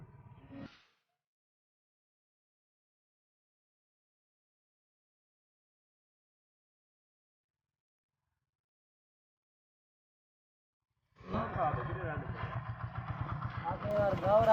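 A motorcycle engine running close by, a steady throbbing idle that starts after a long silence and continues to the end, with a brief burst of sound at the very start.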